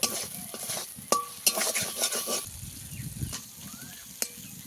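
Spice masala with a little salt stirring and frying in oil for a pangas fish curry: soft sizzling under scraping spatula strokes and a few sharp clinks of utensil against the pan, fairly quiet and close.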